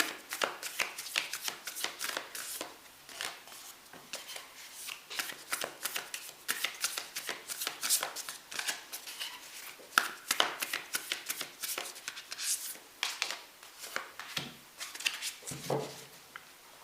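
A deck of spirit animal cards is shuffled over and over, giving crisp, rapid riffling and flicking bursts close up with brief pauses between, and no talking.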